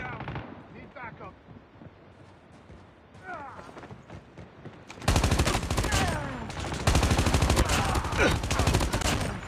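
Rapid automatic gunfire from a sentry gun in the mobile shooter Call of Duty Mobile, starting softer and far off, then erupting into loud, dense bursts of shots for the last few seconds, alongside other battle noise.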